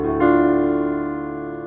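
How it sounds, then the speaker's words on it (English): A sustained musical chord with the sixth scale degree as its bass note, struck once and held with steady harmonic tones ringing on and gently fading, heard alone. "Then the 8th chord has root note 6 in the bass, here it is, and sounds like this."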